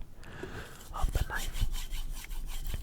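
A kitchen knife is drawn across a sharpening stone, giving a steady, close scraping rasp in repeated strokes with a low rumble beneath, and no talk.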